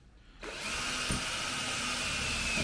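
Power drill whining steadily as it drives a screw into an MDF panel, starting abruptly after a brief quiet moment and holding a loud, continuous motor drone close by.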